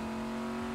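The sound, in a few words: car engine revving in a video game race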